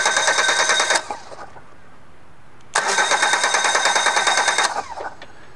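A car engine cranks without firing while the immobilizer is active, two bursts of rapid, rhythmic starter churning separated by a quiet pause, loud and close with no speech.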